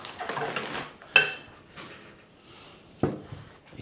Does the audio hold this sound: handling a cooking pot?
yes